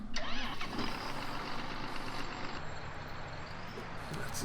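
Tractor engine in the Farming Simulator 19 game starting and settling into a rough mid-pitched idle, a steady rumble that stays moderately loud throughout.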